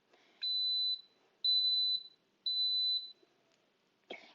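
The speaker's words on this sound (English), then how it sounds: "in just a second, this is going to beep, and that means it is going to start building to pressure" An Instant Pot pressure cooker beeps three times as it starts building pressure, each tone a steady, clear beep of about half a second with even gaps, followed by a faint clatter in a quiet kitchen.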